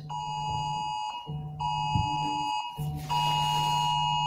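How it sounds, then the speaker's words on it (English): Home alarm system going off with a loud, steady electronic buzzing tone broken by brief gaps, sounding close and continuous. "I have an alarm system coming in."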